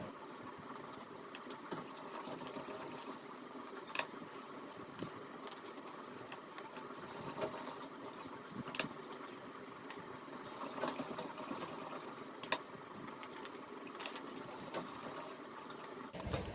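A sewing machine stitching fabric for a halter neck maxi dress runs in a steady mechanical whir, with small clicks and ticks of the needle, moderately quiet, with no talking.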